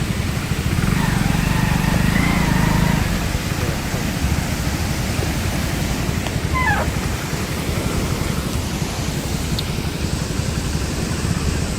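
A continuous heavy roar of Malan river water pouring through open dam gates, close and steady throughout, with a few faint higher chirps over the wash and no talking.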